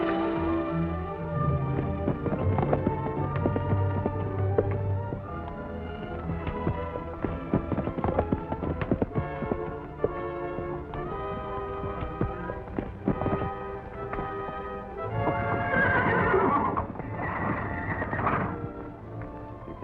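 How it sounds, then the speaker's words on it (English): Stallion's hooves clattering in a fast galloping rhythm with scattered thuds, close and busy, as a horse whinnies near the end, in an old western film soundtrack with no talking. "to pin those stallion up and get ready to turn Volcano loose"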